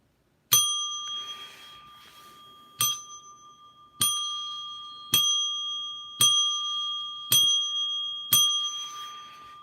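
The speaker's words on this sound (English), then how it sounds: "no matter what the super chat is, that bell's going to be run at least 7 times" A small hand bell is rung sharply seven times in a row for a super chat on a live stream, each bright ding ringing out and decaying before the next, loud and close with no talk.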